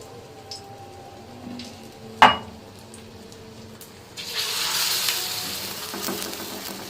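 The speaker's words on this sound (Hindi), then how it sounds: "इसी तरह मैं बाकी टिक्कियाँ भी बनाना स्टार्ट कर रही हूँ।" Shami kabab patties of aloo frying on a tawa over a low flame, with a sharp clink of utensils early on, then a steady, close sizzle rising as more patties go on.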